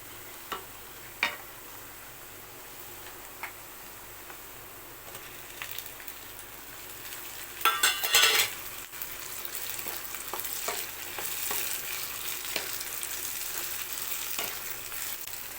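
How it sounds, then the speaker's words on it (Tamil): Onions and tomatoes fry in a pan for prawn thokku, a soft continuous sizzle with occasional stirring taps, briefly louder in a burst of spatula scraping and sputter midway. "வெங்காயம் நல்லா வதங்கிடுச்சு பாருங்கள் இப்போ நம்ம தக்காளி போட்டுக்கலாம்"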